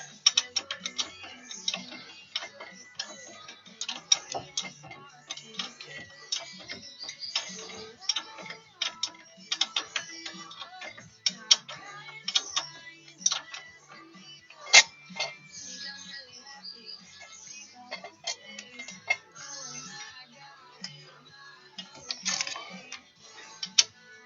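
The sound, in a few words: wrench turning on a Silverado wheel hub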